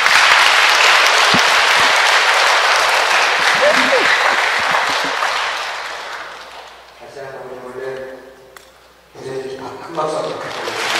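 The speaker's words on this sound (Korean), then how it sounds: "큰 박수" Loud, dense audience applause in a Catholic church during a Medjugorje praise retreat, sustained for several seconds before fading, followed by a voice speaking over a quiet room.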